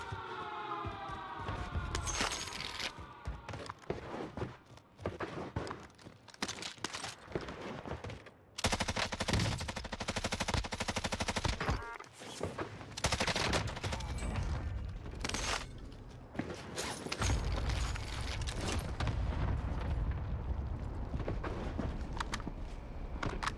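Assault rifle fire in Call of Duty on Rebirth Island, with dense, loud automatic bursts going on almost without pause and a brief lull near the middle, sharp and close, with no talking.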